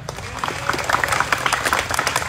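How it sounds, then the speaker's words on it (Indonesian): Clapping from an audience gathered at an Indonesian haul memorial event, a burst of quick, fairly close hand claps that builds and then stays steady. "Tepuk tangan dulu dong."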